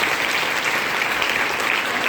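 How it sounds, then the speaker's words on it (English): A school event audience gives a big round of applause, dense, even clapping from many people that stays loud and steady throughout. "Let us give them a big round of applause."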